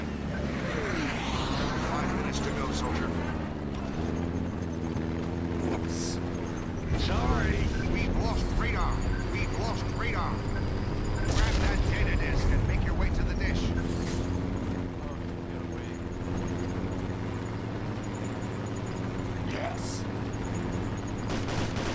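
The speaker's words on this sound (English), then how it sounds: "We fired an SSM." A surface-to-surface missile launches and explodes in the combat game Enemy Territory Quake Wars, heavy booming blasts and rumbling bursts rising midway among ongoing gunfire, engine drone and other battle noise.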